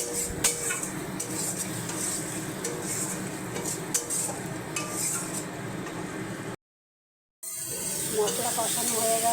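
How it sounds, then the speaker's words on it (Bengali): Spice paste with turmeric, ground coriander, fried potatoes and a little water is stirred in a pan for a pomfret curry, with spoon scrapes and clinks over a steady low sizzle, broken by a brief silence. "একটু জল দিয়ে মশলাটা কষিয়ে নেব।"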